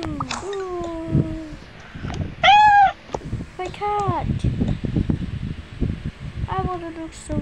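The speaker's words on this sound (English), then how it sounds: "My cat." Cartoonish cat meows from the Toca Life game, several short rising-and-falling calls spread across the span, one loud and bright, mixed with a voice and light game rustling.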